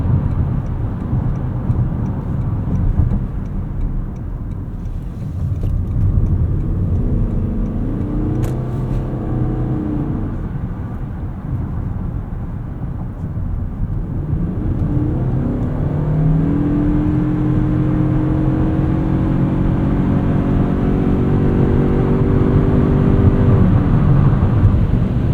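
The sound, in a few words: 2025 Toyota Crown Signia driving in sport mode, accelerating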